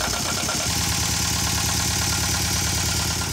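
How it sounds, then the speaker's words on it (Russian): Sailing yacht Babushka motors on a windless Atlantic stretch about 80 miles offshore between Florida and the Carolinas, its engine droning in a loud, even, close-up throb with a steady pulsing rhythm and no voices. "Приходится моторить на удалении 80 миль от берега"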